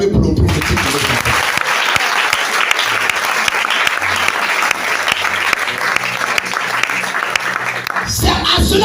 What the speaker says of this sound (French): Est-ce qu'on peut acclamer pour le prophétique de votre enfant?